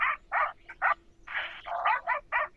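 Recorded dog barking played through a loudspeaker set up to guard crops in a farm field: a rhythmic series of sharp, clipped barks in quick succession, loud and slightly tinny, with no one speaking.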